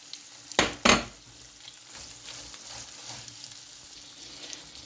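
Onions dropped into a pan of frying mackerel for a mackerel and vegetable stuffing, two sharp loud bursts of sizzle as they land, then a quieter continuous frying hiss nearby.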